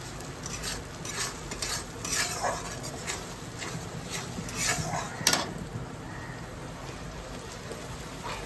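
Curd being stirred into a Bengali fish curry in a pan over low heat: a steady soft sizzle under repeated scraping strokes of a spoon, close and fairly quiet, with no talking.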